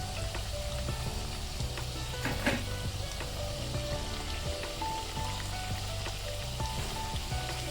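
Karanji pastries sizzle and crackle steadily in hot oil, a close, dense frying hiss with occasional brief pops and no one speaking.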